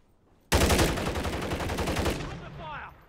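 Gunfire in the video game Modern Warfare 3 during a public match; a sudden loud burst of rapid automatic shots rattles for about a second and a half, then fades into softer game sounds and faint voice chatter.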